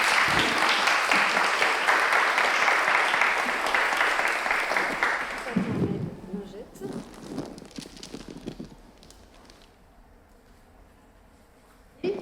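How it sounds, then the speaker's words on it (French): A crowd applauds a speaker at a round-table event at a Lyon professional fair. The dense, loud clapping lasts about five seconds, then thins into scattered claps and voices before the room goes quiet. "Vous pouvez l'applaudir."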